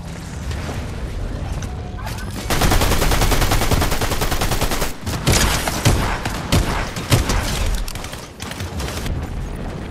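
Rapid bursts of gunfire in the battle royale game Fortnite, loud and sustained with automatic-weapon rattles and a few heavier single shots, dense and continuous across the span.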